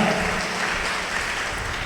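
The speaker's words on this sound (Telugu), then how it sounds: "గట్టిగా చప్పట్లు కొట్టండి" A congregation at a Christian gathering claps loudly in a sustained, dense wash of hand claps with a low rumble beneath and no talk.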